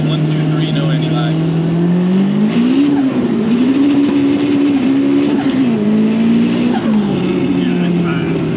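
Nissan S15 with a big turbo and anti-lag accelerating hard, the loud engine tone rising and dipping through several gear changes, heard from inside the car with a voice speaking briefly over it.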